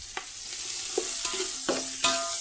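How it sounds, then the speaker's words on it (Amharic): Sliced onions drop into hot oil in a home kitchen pan, giving a soft continuous sizzle punctuated by a few sharp clinks and stirring knocks, close and fairly quiet. "በኋላ ዘይት ሲግልልኝ ሽንኩርቱን ጨመርኩኝ።"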